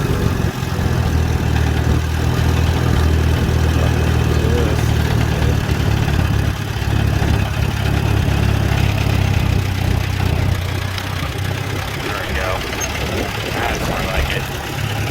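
A Farmall B tractor engine idles with a steady low throb while cultivating with Tilmor tender plant hoes, running continuously, with voices faintly talking over it.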